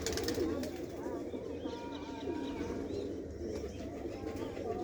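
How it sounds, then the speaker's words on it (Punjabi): Pigeons coo softly in a loft, low rolling calls repeating under a steady background murmur. "ਚਿਟੀਆਂ ਦੀ ਕਬੂਤਰੀ ਆ ਤੇ ਚਿਟੀਆਂ ਦਾ ਬਾਈ ਕਬੂਤਰ ਆ"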